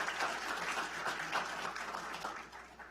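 Sustained applause from an audience at a government budget presentation, a steady dense wash of clapping at even volume throughout that tapers slightly near the end.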